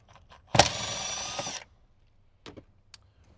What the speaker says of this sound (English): So we can go ahead and remove that 10mm bolt